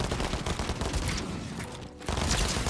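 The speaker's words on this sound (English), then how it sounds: "He spammed an SMG." Rapid SMG fire in Fortnite, a dense, continuous spray of loud gunshots that runs almost the whole time, broken by one short pause near the end before resuming.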